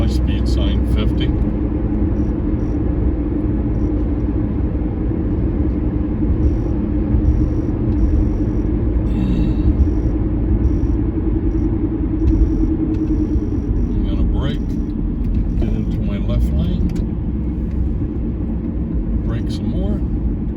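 Car driving across Brooklyn's Verrazzano Bridge highway, a steady loud road rumble and engine drone from inside the vehicle throughout, with faint passing traffic and someone talking over it.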